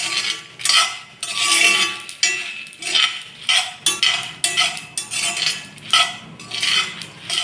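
About twenty dried red chillies being stirred with a metal spoon in a pan over a low flame, sharp rhythmic scraping and clinking strokes repeated steadily, close and loud with no talk.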